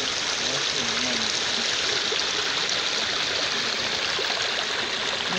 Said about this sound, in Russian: Вот так вот начинается самый большой водопад на Чансу, в переводе «летящая вода».